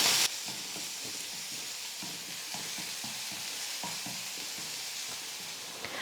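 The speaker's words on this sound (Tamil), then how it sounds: "வெங்காயம் நல்லா வதங்கி வந்துருச்சு." Chopped onions sautéing in a pan while making keerai kulambu, a spinach curry, with a steady sizzle and repeated soft stirring scrapes and knocks throughout, close and fairly quiet.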